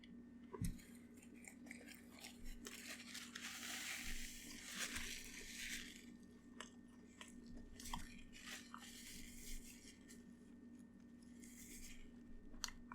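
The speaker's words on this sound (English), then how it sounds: "so I think it's time to take a bite" Soft crunching bites and chewing on a McDonald's crunchy double with barbecue sauce, close and quiet, with irregular crisp bursts over several seconds and no talking.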